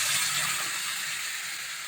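Liquid poured into a hot pan of cooking taro stalks sets off a loud, close, steady hiss and sizzle that fades slightly as it goes on.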